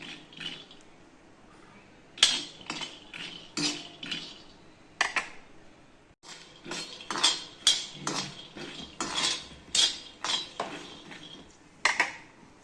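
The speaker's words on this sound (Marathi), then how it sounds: "शेंगदाणे भाजून घेते. आता हे बघा, असे भाजून घ्यायचे ते." Peanuts are dry-roasted in a pan, with repeated rattling, scraping bursts of stirring at an irregular rhythm over a quiet background.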